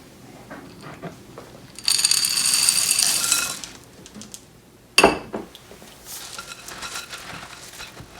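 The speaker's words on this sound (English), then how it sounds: "you're going to add the chocolate chips and stir it to combine" A spoon stirring chocolate chips into cookie dough in a bowl, with a burst of clinking and scraping, a pause, then a sharp knock and softer scrapes, close by and with no talking.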